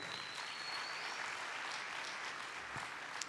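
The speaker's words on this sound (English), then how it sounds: "Can you have a hearty round of applause?" Conference audience applause at the Africa Blockchain Conference, an even, continuous wash of clapping held steady and fairly distant, with a faint tonal whine in the first second.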